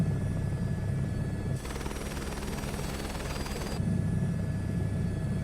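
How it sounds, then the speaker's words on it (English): Damaged helicopter engine in a VR flight game, grinding with harsh metal-on-metal ripping, a dense broadband roar that swells loudly for a couple of seconds in the middle over a steady low rotor rumble. "So the engine sounds different when it gets damaged. You literally have metal on metal ripping sounds right now."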